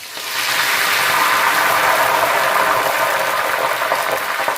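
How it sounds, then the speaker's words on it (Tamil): Curry leaves frying in hot oil for a chicken sambal, a loud, steady hissing sizzle that starts abruptly and holds without pause, with no voices over it. "கருவேப்பிலையை போட்டுட்டு நல்ல வடிவாக பொரித்து எடுத்துக்கொள்வோம்"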